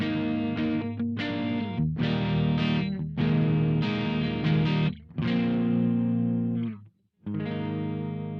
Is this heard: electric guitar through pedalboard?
yes